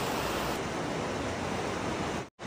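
The Lidder river rushes through the Kashmir mountains near Pahalgam, a steady broadband roar of flowing water close by, continuous and unbroken apart from a momentary drop near the end, with no voices.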